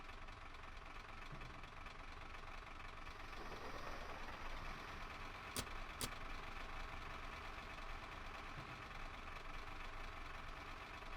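A submarine diesel engine in a U-boat simulator game drones with a steady, dense mechanical rumble, and two brief sharp clicks break through midway.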